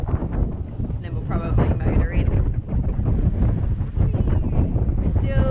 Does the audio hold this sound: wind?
yes